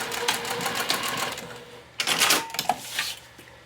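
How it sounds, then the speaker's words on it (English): A sewing machine stitches back and forth to tack a Willow Wristlet bag piece in place, with a rapid, close, mechanical whirr that pauses briefly and then starts again. "I'm just going to base this in place by sewing back and forth a few times to connect this."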